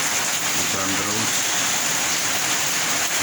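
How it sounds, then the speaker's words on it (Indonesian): Rain pours steadily in a dense, even hiss, loud and close, with a faint low murmur beneath it. "Hujan, memang hari ini hujan."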